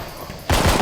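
A loud, abrupt burst of pistol gunfire in a zombie video game cuts in after a quieter, hissy lead-in, sharp and close, with no talking.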